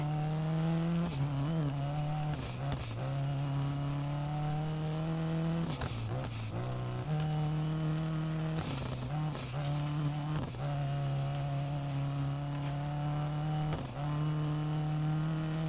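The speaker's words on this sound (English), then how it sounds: "Engine sounds a little bit low on horsepower there" Rally car engine droning steadily in the Dirt Rally video game, a sustained low-horsepower hum with brief dips and surges as it shifts and takes turns, loud and continuous with no talk.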